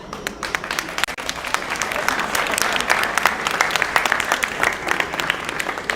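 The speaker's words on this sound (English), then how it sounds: "Please give a round of applause for all these leaders." A large audience applauds steadily at a community unity iftar gathering in Minnesota, with dense, continuous clapping that holds at an even level for several seconds.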